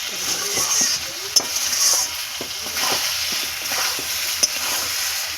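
Spice paste sizzling and frying in a pan for a rohu fish and potato curry with green chillies and red chilli powder, a steady hiss punctuated by a few sharp stirring clicks, close and continuous.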